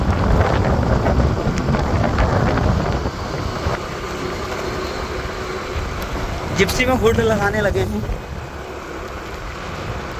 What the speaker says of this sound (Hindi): उस तरफ को तो काफ़ी तेज़ बारिश आ गई है